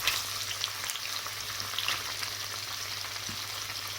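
Sliced sausages sizzle steadily in a hot frying pan, a continuous crackling hiss with faint stirring scrapes, close and moderately loud with no talking.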